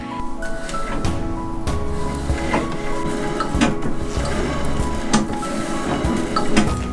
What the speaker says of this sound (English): Sitting here and I'm practicing my treadle technique